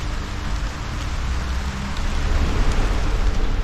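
Steady rain falls at a cycle tour campsite in Val Venosta in the morning, a dense hiss of drops on surfaces that grows a little louder and continues without voices.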